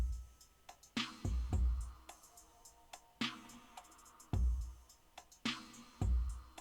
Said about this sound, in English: So the first one without any effects sounds like this.